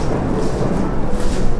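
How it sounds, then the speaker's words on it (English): A long, loud rumble of thunder rolls through steady rain during a home cooking session, a dense roar that stays constant throughout with no speech. "Oh, here goes another thunder break."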